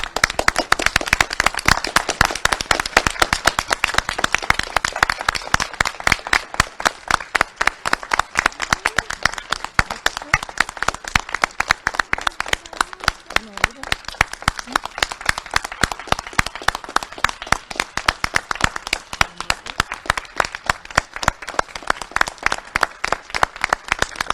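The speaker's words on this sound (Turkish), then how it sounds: "o zaman alkışlamaya başlayalım" Family and neighbours, including the Turkish agriculture minister with his wife and children, applaud farmers from their home: dense, steady clapping runs without pause the whole time, loud and close.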